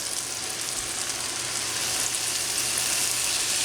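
Small steak pieces hit a buttered pan and sizzle steadily with a bright, dense crackle that holds constant and close throughout, with no talking, while cooking steak and cheese stuffed peppers.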